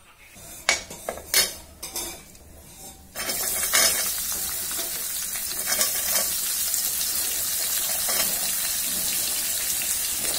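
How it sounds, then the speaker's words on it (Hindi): Onions for an onion sabzi drop into hot oil with a sudden, loud, steady sizzle that keeps going, after a few sharp clinks of utensils against pots and dishes. "अभी मैं प्याज फ्राई करूँगा"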